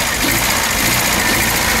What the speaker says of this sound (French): Ça, c'est une bielle qui coince.